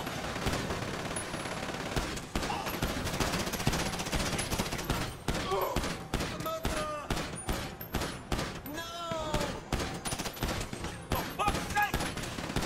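Rapid automatic gunfire from a shooter video game rattles in dense bursts throughout, with a voice talking over the shots.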